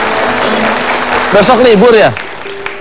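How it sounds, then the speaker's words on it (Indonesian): Studio audience applause on a television comedy show, steady clapping throughout with someone talking over it midway before the crowd noise drops off. "tepuk tangan buat Anda"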